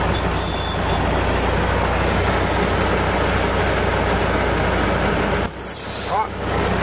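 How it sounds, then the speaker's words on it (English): Semi truck easing forward a tiny inch as its fifth wheel unlocks, a steady loud diesel rumble with a sharp mechanical clunk and a hiss of air near the end. "I just move like a tiny inch, just as soon as I hear that the fifth wheel unlocks."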